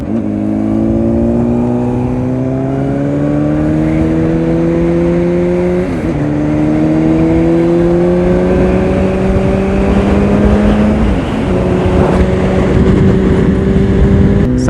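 A Honda Fireblade CBR1000RR with a Yoshimura slip-on exhaust accelerates hard, its loud engine note climbing steadily through three gears with brief dips at each shift and no voices.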